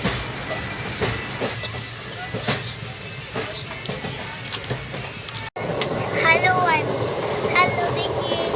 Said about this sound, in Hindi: उसके बाद अब ट्रेन डिपार्ट कर चुकी है सुल्तानपुर जंक्शन की तरफ